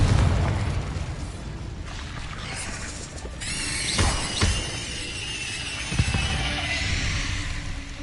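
The Confringo explosive spell in Hogwarts Legacy lands as a few sharp booms and bursts over a dense, continuous game soundscape, with no voices.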